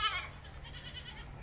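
Saanen goat, a milking doe, gives one short faint bleat right at the start, followed by quiet background noise.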